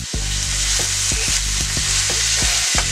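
Minced garlic sizzling in a hot pan while cooking, a loud continuous crackling fry with small popping bursts throughout, close and alone.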